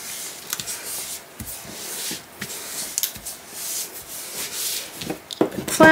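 A bone folder burnishing paper flat on an envelope mini album, repeated dry rubbing and scraping strokes in an irregular rhythm, close and moderately loud with no talk.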